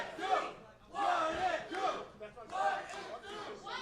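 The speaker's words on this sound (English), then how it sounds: "Crowd chanting, "What it do?"" Wrestling crowd at a Monster Factory show chanting in unison, loud rhythmic bursts of massed voices rising and falling over several seconds.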